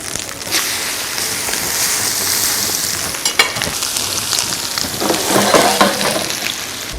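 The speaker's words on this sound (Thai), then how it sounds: "นำหมูเนี่ยลงไปย่างครับผม" Steady, loud sizzling of pork neck searing in a hot pan, continuous throughout with occasional crackles and pops.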